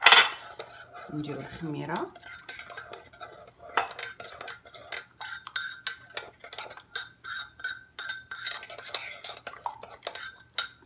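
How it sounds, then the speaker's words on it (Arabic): A spoon clinks and scrapes steadily against a bowl while sugar, water and yeast are stirred for honey wheat bread dough, close and fairly quiet, with soft speech over the clinking. "غادي نديرو السكر وشوية الماء، حركو"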